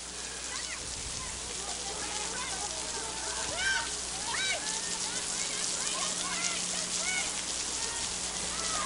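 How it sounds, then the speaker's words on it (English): Steady rain pours down at Spartan Stadium during a rain-soaked women's college soccer match, a continuous wash of hiss and patter with faint distant voices underneath. "the rain continues to come down here at Spartan Stadium"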